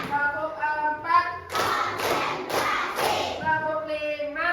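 A class of children claps a few quick rhythmic bursts in unison while the teacher leads a counting clap routine, with an adult voice speaking before and after the claps.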